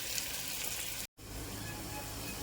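Onions fry with whole spices in a pressure cooker for prawn biryani, giving a steady, hissing sizzle that cuts out for a split second before resuming.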